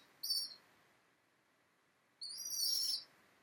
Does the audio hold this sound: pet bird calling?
yes